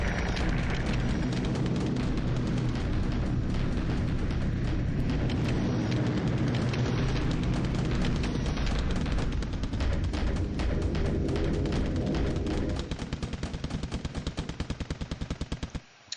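Dense, continuous rattling gunfire with heavy booming explosions from airstrikes in a War in the Pacific naval strategy game, loud and sustained before thinning into sparse shots near the end.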